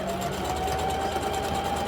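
A sewing machine running a zigzag stitch on its own, a steady fast mechanical whir with a rapid even rhythm, close and continuous throughout.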